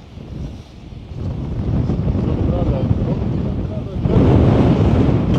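Wind buffets the microphone in a loud, rumbling rush that swells and strengthens toward the end, with no clear talk over it.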